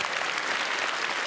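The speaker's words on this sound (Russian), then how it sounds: "Искупайте в аплодисментах" A comedy club studio audience bursts into applause, a loud, dense wash of many hands clapping continuously with a faint crowd murmur underneath.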